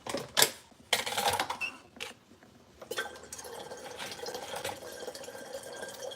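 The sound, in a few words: filling a kettle with water at the sink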